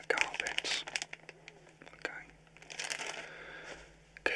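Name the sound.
plastic bags crinkling as they are put over shoes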